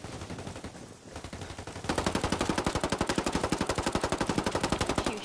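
Automatic gunfire in the video game Ghost Recon Ghost War: after a muffled opening, a loud, rapid machine-gun burst starts near the two-second mark and keeps rattling at an even rhythm to the end, with no voices.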